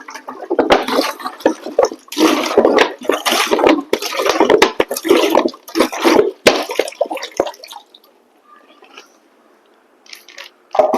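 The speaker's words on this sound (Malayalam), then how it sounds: "രണ്ട് ലിറ്റർ വെള്ളം കറക്റ്റ് അളന്നെടുത്തിട്ടുണ്ട് അതിലേക്ക് ഒഴിക്കാം" Two liters of measured water pour into a container for homemade dishwashing liquid, a splashing gush in bursts that stops and leaves near silence.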